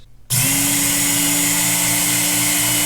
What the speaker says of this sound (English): it's just a couple of passes on the honing belt.